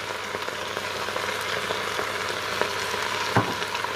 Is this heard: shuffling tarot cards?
no